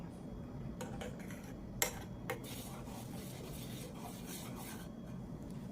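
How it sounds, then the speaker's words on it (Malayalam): A spoon stirs karak chai, a spiced masala tea with cashews, as it boils in a pan. The scraping and rubbing is steady and close, broken by a couple of sharp metallic clinks, with no talking. "നന്നായി ഇളക്കി കൊടുക്കുക"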